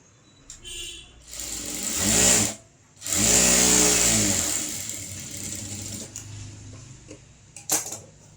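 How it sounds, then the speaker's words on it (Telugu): A sewing machine stitching a blouse, running in two loud whirring bursts separated by a brief pause, then tailing off into quieter handling and a short mechanical clatter near the end, with no talk. "తర్వాత ఇది ఇలా మార్చుకొని పై వైపున ఒక కుట్టు వేస్తుంది"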